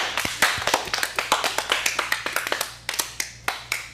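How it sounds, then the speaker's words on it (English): A small group claps for teen improv performers at an acting studio showcase, sharp individual hand claps close by in an uneven patter that thins toward the end. "Get a round of applause for yourselves."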